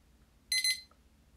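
A bedside alarm clock, a radio-controlled model, gives a quick double chirp of high electronic beeps, close and fairly loud, in an otherwise quiet room.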